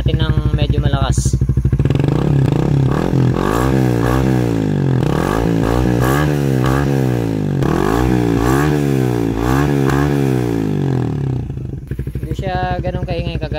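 Rusi Raider 150 FI motorcycle fitted with a Red Leo power pipe exhaust revs hard from idle, climbing and falling in repeated loud throttle blips with a deep, bassy burble, then settling back to a steady idle.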